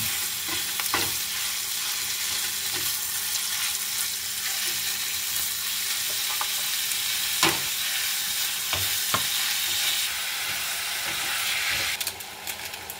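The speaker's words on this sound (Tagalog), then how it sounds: "Ngayon, isusunod na natin ang ating giniling." Ground meat fries in a pan for spaghetti sauce with a continuous, close, loud sizzle. Occasional stirring scrapes and taps cut through it.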